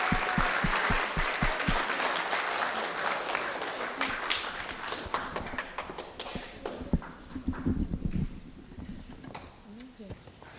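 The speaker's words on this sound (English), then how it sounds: "So maybe a big round of applause again for all our wonderful contestants" An audience at a children's speech competition final claps for the contestants. The applause is dense and sustained at first and then thins into scattered claps, with voices mixed in.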